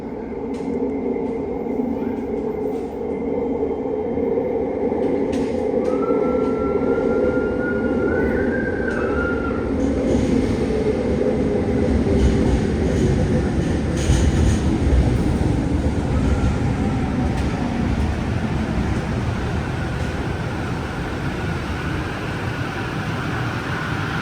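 A passenger train carries commuters to work, with a steady, loud rolling rumble of wheels on rails filling the whole ride and no talking.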